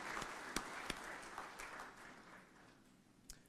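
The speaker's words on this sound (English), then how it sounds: "I believe you deserve a round of applause for both your commitment and achievement" Applause from an audience at a national quality awards ceremony: faint, steady crowd clapping with a few sharper claps standing out, fading slightly toward the end.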